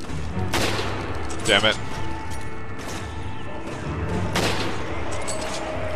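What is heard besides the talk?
sniper gunfire in the video game Resident Evil 5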